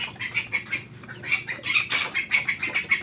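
Chickens kept as backyard poultry and fed, clucking and chattering continuously up close, with busy overlapping calls and occasional wing flaps, no voices.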